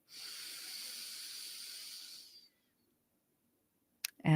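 Deep, steady breath drawn in through the nose during a guided breathing meditation, a soft airy hiss lasting about two seconds up close, followed by silence and a brief rustle at the end.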